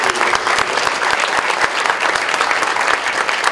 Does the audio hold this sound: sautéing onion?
no